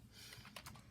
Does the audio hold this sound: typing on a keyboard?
yes